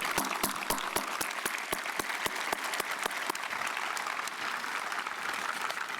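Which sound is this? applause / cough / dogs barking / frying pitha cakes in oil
applause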